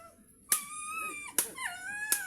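A dog gives a few whimpering yips and short howl-like cries, close by and fairly quiet, separated by brief pauses.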